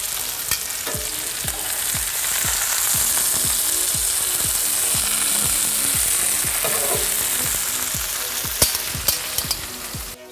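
Blackfish (tautog) fillets coated in almond flour sauté in a hot pan, giving a steady loud sizzle throughout with a rhythmic low ticking underneath and a few sharp clatters near the end; no talking.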